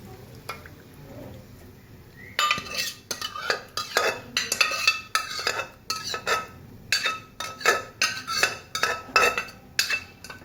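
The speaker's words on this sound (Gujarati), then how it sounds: "સરસ મિક્સ કરી દઈએ." A spoon scrapes and clinks rhythmically through moong dal bhajiya batter in a pan, a steady run of close stirring strokes that starts after a quiet couple of seconds and continues without talk.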